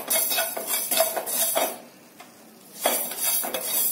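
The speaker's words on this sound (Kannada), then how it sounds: "ಮೆಂತ್ಯನ ಹುರ್ಕೊಂತಾ ಇದೀನಿ" Fenugreek seeds being dry-roasted in a pan for mango pickle, with a metal spoon scraping and clinking against the pan in quick bursts, a short pause, then more stirring.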